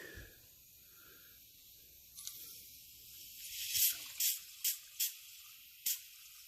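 A soft hiss rises, then a series of short sharp bursts of spraying hiss, like air or liquid sputtering and bubbling through a nozzle, close by, during work on a GMC motorhome.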